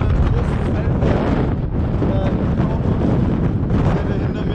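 Strong wind buffets the microphone outdoors on the Großer Feldberg mountain in the Taunus, making a loud, continuous low rumble that barely lets up.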